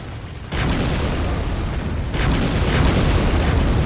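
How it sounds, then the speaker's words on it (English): Bombs dropping in the Art of Destruction video game, detonating in loud, rumbling explosions that roll into one another as a continuous thunderous blast with no pause. "Oh my god, dropping bombs."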